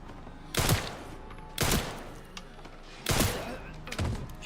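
Gunfire in the video game Resident Evil Requiem: three loud, separated shots, each a sharp burst with a brief decaying tail and roughly a second apart, followed by a softer fourth thump, with a voice speaking faintly underneath.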